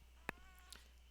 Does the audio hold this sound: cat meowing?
yes